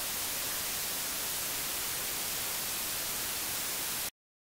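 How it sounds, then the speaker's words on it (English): A flat, hissing burst of white noise test signal through a Pioneer SR-202W spring reverb, steady and loud across the whole range, cutting off abruptly into silence after about four seconds. "I'm going to start with some white noise."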